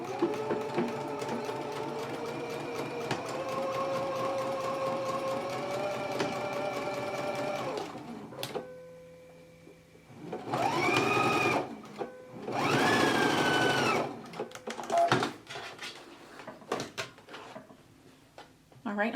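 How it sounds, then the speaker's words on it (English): Sewing machine stitching darts in a skirt, running in a steady whirring burst for several seconds, then pausing, with a few shorter bursts and handling sounds after it. "So let's go ahead and stitch our darts in place now."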